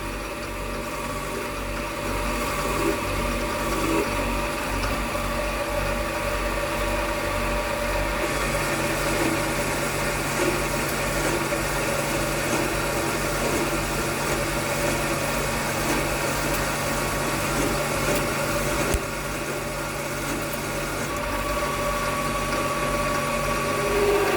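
A lathe with its motor fitted turns a metal part while a small carbide insert cuts it. A steady, loud mechanical hum and whine holds for the whole stretch, with a faint shift partway through and no voices.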